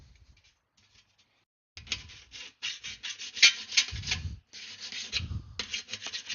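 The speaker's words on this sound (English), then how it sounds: "And then final pass is with a fine file." A fine file rasps across an airplane wing part in a series of close, scratchy strokes, starting after a quiet moment and repeating in uneven rhythm.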